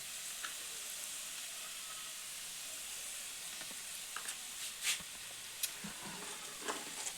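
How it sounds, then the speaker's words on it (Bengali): Ground turmeric, cumin, chilli powder and salt fry in a pan for a Bengali bread chop filling, giving a soft steady sizzle with a few faint scrapes of stirring, no talk. "এরপরে মশলাটিকে আরও কিছুক্ষণ ভেজে নেব"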